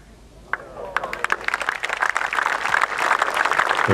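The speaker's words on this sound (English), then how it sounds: "They're trying to cheer him on" A golf gallery at the 2018 BMW PGA Championship breaks into applause and cheering, building from scattered claps into sustained, fairly close clapping.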